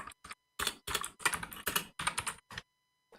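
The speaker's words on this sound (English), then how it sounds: "Typing like a boomer with caps lock." Fast typing on a computer keyboard, caps lock on, gives bursts of sharp close clicks in quick irregular groups separated by short pauses, with no voices.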